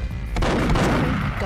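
Gunfire in the video game Perfect Dark: a sharp shot near the start, then dense, sustained booming fire that fills the clip at steady loudness, with faint voices mixed underneath.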